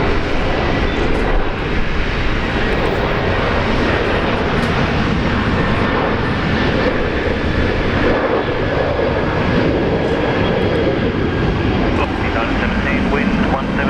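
An airliner takes off from runway 19 right at Brisbane Airport, a steady, broad jet roar that holds at an even loudness throughout, with no talk over it.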